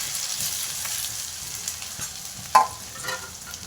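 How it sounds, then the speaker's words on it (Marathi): Mustard seeds, cumin and onion sizzle in hot oil for a Satara-style black ghevda dal amti, a quiet, steady frying hiss with a brief sharper crackle near the end and no talk. "तर आपल्याला इथं मोहरी टाकायची त्यानंतर थोडं जिरं टाकायचं आणि मग बारीक शिजलेला कांदा टाकायचा"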